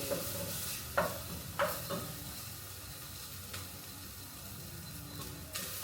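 String beans stir-fried in a pan, with a steady soft sizzle under several sharp utensil scrapes and clinks as the beans are stirred; close by, no talking.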